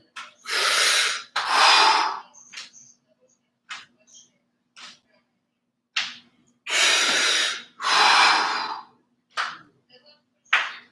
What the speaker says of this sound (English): Consolidate the breathing movements in, out, resting at the bottom.